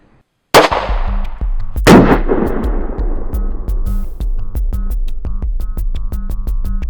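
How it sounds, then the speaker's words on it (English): A G2 Research R.I.P. round is fired into 12 layers of denim: two loud, close gunshot blasts with a long ringing decay, over a steady musical background. "I'm going to load the magazine with one round of the G2 and insert it into the weapon, charge it, and we'll get ready to fire into these 12 layers of denim."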